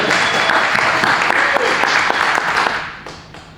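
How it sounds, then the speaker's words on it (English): Modest audience applause in a bar as a speaker is introduced, steady clapping from a small crowd that holds for a few seconds and then trails off. "It's kind of a weak applause."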